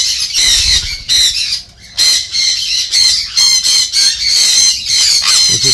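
Exotic pet birds squawk loudly and continuously at feeding time, a dense chorus of harsh overlapping calls close by with no talk.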